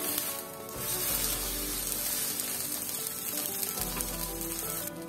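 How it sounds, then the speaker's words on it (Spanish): Pambazos dipped in guajillo chile sauce fry in a pan with a steady, loud, close sizzle that swells early on and then holds constant with crackling spatter. "Y los vamos a colocar en un sartén para que se frían."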